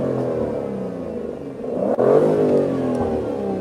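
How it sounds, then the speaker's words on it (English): A stationary 2020 Aston Martin DBS Superleggera Volante engine revs up sharply a couple of times in neutral, a throaty rising roar that settles back, close by with no talking. "Finishing with some revs."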